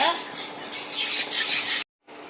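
A watermelon ice cream mixture is stirred steadily in a pot, with close scraping and rubbing that breaks off briefly near the end.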